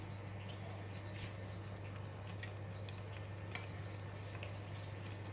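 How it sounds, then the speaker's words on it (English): Luffa mee suah soup boils in a covered pot, giving a steady low bubbling hiss with faint scattered pops and drips that run continuously and quietly. "Alright, the soup is boiling."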